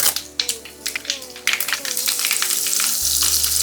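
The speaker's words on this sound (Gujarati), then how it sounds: "રાઈ ફોડી લઈએ જીરું ચટકાવી લઈએ" Mustard seeds and cumin spluttering in hot oil, sharp popping crackles bursting repeatedly over a loud continuous sizzle, close and prominent.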